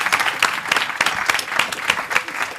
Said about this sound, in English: I want to give a round of applause to Marian Kaba, Vincent Shiralu, Danielle Se